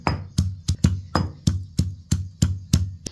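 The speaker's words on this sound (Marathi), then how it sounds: "आता ही खलबत्त्यात आपण बारीक करून घ्यायचं" Coriander seeds and cumin pounded in a stone mortar and pestle, a close, steady series of about nine sharp, heavy thuds in an even rhythm, with no talking.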